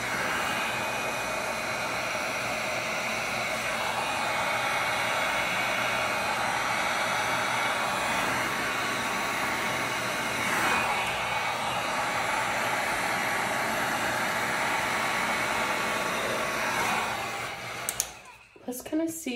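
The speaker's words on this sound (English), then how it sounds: "You don't want to leave your heat gun in one spot for too long, you guys, because then you could burn the resin." A heat gun blows steadily over a poured resin circle clock, a continuous loud hiss of air that holds nearly unchanged for most of the stretch before cutting out near the end with a few clunks.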